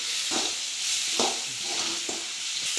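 Onions sizzle steadily in a pan while a spoon stirs them in a few separate scrapes, the frying hiss close and fairly quiet throughout.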